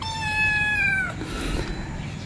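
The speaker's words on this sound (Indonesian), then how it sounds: "belum dimulai sudah ada kucing." A cat gives one drawn-out meow close by that falls in pitch at the end, followed by quiet room tone. No one speaks.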